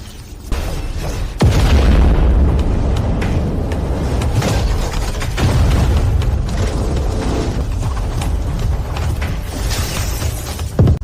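Energy cannons in a video game firing rapid blasts, around twelve shots a second, with booming explosions that keep up a loud, dense, continuous barrage for the whole stretch.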